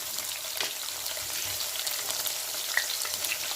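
Green chilies and onions hit hot oil, giving a steady, close crackling sizzle with a few brighter pops throughout, no voices over it.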